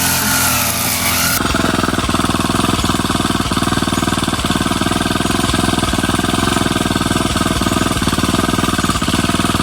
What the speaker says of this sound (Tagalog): sa left side naman po si Bossing nag-grass cutter